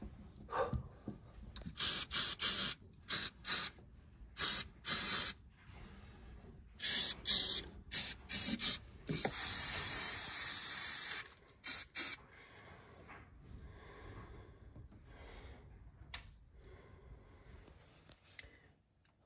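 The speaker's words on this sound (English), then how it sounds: "If you spray it in some areas, it'll really soak down into the cracks." Short bursts of aerosol spray hiss in quick succession under the front wing of a 1974 Jensen Interceptor, some longer and some clipped, followed by quieter rubbing and handling noises.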